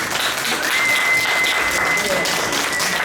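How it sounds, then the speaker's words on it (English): Dense audience applause at a conference evening welcoming Dr. Sharita, a steady wash of many hands clapping at even loudness throughout, with a faint tone running beneath. "Let's give her a round of applause."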